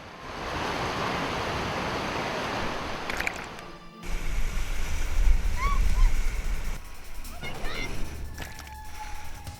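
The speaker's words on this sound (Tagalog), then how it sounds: "Sunod-sunod ang hampas ng malakas na agos" Strong river current rushes loudly over large rocks, a dense steady roar that surges heavier midway, with faint voices occasionally underneath.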